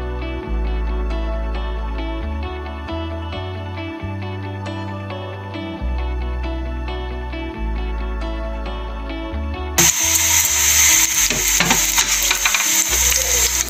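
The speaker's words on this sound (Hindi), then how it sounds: "सबसे पहले इसमें हमने प्याज ब्राउन करना है।" Onions browning in a pan for brain masala fry, a steady sizzle heard over continuous music, with a louder burst of frying and stirring near the end.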